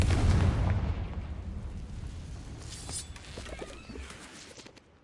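A Confringo blasting spell explodes in the Hogwarts Legacy video game, a heavy booming blast at the start that fades into a long, crackling, rumbling decay.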